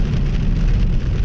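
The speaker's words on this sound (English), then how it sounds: "I don't know if y'all can hear the rain or not, but it's coming down pretty hard right now" Heavy rain comes down hard, a dense, loud, steady roar of drops hitting surfaces, with nothing else audible.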